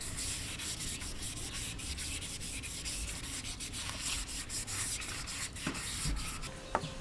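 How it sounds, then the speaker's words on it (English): Sandpaper rubbing over a soapstone sculpture to smooth its surface, a quiet, continuous scratchy rasp with rhythmic strokes and a few small knocks near the end. "they use smooth sandpapers, leaving the sculpture with a smooth surface"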